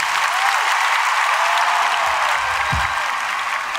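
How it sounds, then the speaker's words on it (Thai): A theatre crowd applauds steadily to welcome comedian Udom Taepanich onstage at his thirteenth solo stand-up show, the dense clapping filling the whole stretch at an even level with a faint low thump near the end. "ขอเสียงปรบมือต้อนรับ อุดมแต้พาณิชย์"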